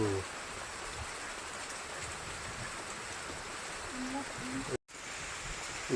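Steady rain hiss fills the space, a constant wash of falling unseasonal summer rain with a brief dropout near the end.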